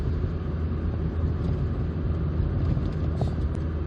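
The engine of a 2003 MG TF135 hums as a low, steady drone from just behind the seats while the car drives along, heard from inside the cabin with no talking.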